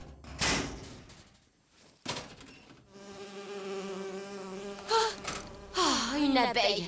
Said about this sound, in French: Oh, une abeille. J'ai horreur de ça.